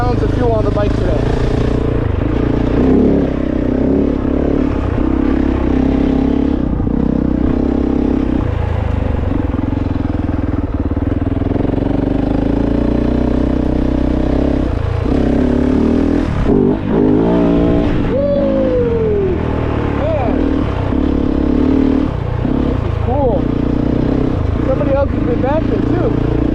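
A Kove 450 adventure motorcycle loaded with eight gallons of fuel, ridden continuously with a loud close engine drone and wind rush, revs rising and falling across the ride, with occasional talking over it.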